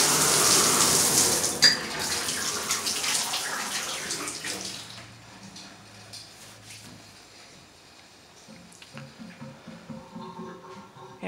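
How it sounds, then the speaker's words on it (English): A shower running in a house during a pre-move-in check: a loud spraying rush for the first few seconds, then the flow is cut and only faint drips and quiet room noise remain. "Shower is working good."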